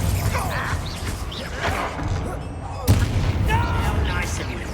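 A Bombarda explosion spell goes off in Hogwarts Legacy: a sharp blast lands near the three-second mark amid ongoing game combat noise, with a voice speaking around it.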